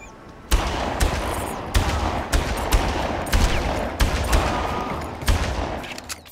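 Gunfire in Far Cry: a string of sharp, loud shots in uneven bursts, roughly seven cracks spaced under a second apart, each trailing into a rumbling echo, with no speech.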